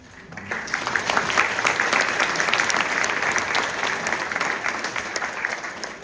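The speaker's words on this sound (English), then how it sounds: "So a round of applause for them." Applause for the band students at a 5th and 6th grade spring band concert, a dense, steady wash of many hands clapping from the audience that rises quickly and holds for several seconds.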